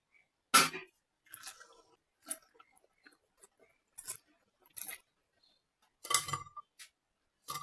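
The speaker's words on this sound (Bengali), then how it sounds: "তোমরা আওয়াজ শুনেই বুঝতে পারছো কতটা ক্রিস্পি হয়েছে ডোনাটস গুলো।" Crunchy bites into freshly fried crispy donut snacks, several sharp crackling crunches spaced apart with quiet pauses between, close and fairly loud.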